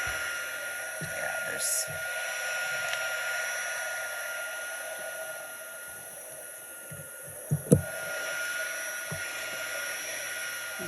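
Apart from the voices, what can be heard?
heat tool heating embossing powder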